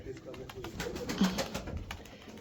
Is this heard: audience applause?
no